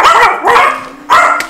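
Dog barks three times in quick bursts, each a loud, close, harsh yap separated by short pauses, with a faint whimpering tone between the second and third.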